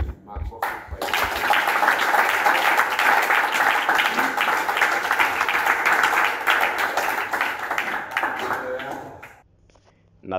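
A congregation bursts into sustained applause for Jesus at the close of a Swahili church sermon, a dense, steady clapping that swells quickly, holds for about eight seconds, then fades out near the end.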